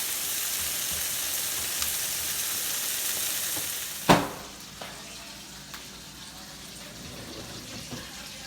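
Burger patties frying on a stovetop over high heat, a loud, steady sizzle with a sharp spattering crackle midway, after which the frying settles into a quieter hiss with occasional pops.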